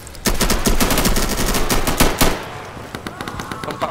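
Rapid automatic gunfire from the video game Insurgency rattles in dense, loud bursts for about two seconds, then gives way to scattered, fainter shots and lingering reverberation.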